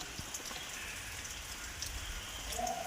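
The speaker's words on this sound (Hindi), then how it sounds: "देखंतु केते जोरे वर्षा होची" Heavy rain falls steadily in a broad, even hiss with scattered drips and splashes on surfaces, continuous and fairly close, with no talking.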